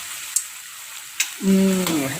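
Tempeh and long beans stir-fried in a pan with a turmeric yellow spice paste; two sharp utensil knocks come first, then a loud close sizzle swells up and holds.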